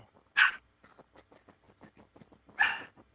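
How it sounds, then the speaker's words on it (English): A pet dog shut out of a room barks twice, sharp and fairly close, with quieter whimpering and yips running between the barks. "I can hear the dog in the background too"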